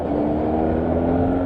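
Benelli 302R twin-cylinder motorcycle engine with a steady, droning exhaust note held at an even pitch, close and loud for the whole brief stretch.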